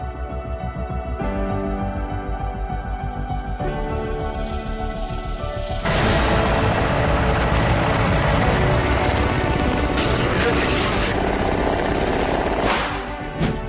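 An attack helicopter flies past, its loud rotor and engine drone steady at first, then swelling into a denser, roaring wash that holds before cutting off abruptly near the end, with no voices.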